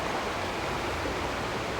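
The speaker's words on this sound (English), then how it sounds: "A lot of water in the park going through." Water rushing through a stream in a park during a January thaw, a steady broadband roar of flowing water, constant and close with no other sounds.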